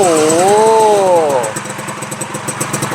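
A Suzuki RC motorcycle converted to fuel injection starts up with a rising whine, then settles into a steady close engine idle, with people talking over it.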